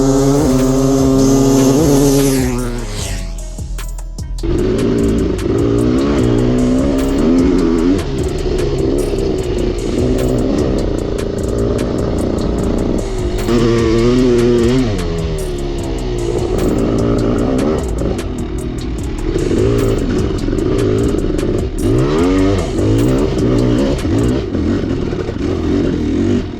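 Two-stroke dirt bikes, a Kawasaki KX500 and a Honda CR500, rev loudly and close by, with rising and falling engine pitch and a brief dip before the throttle opens again.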